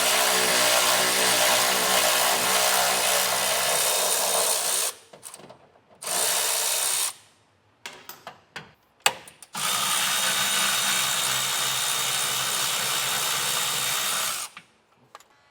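Power tool spinning a 12mm socket to remove frame bolts on a truck while fitting Air Lift LoadLifter 5000 air helper springs; loud sustained whirring bursts broken by short pauses and ratchety clicks, no talking.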